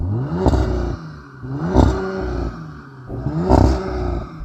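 An Audi RS5 engine revs hard three times in a row, each burst rising in pitch before dropping back to a rumbling idle, loud and close.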